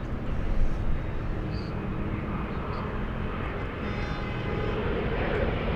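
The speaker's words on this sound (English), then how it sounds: "Plane that sounds like a train." A plane taking off at LAX airport, a steady loud broadband engine roar with a deep rumbling low end, sustained and slightly swelling near the start, sounding somewhat like a passing train.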